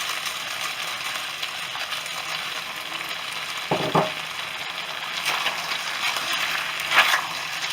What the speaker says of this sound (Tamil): நல்லா இந்த சாஸை சிக்கன் மேலே கோட் ஆகிற வரைக்கும் நம்ம கிளறி விடணும்.